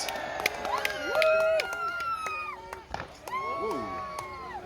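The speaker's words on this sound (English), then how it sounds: "So let's hear another cheer for both parties as we fight our third match." A crowd cheers and whoops with many overlapping shouting voices as blue and orange knights fight a sword match, a loud, close, sustained roar that dips and swells again.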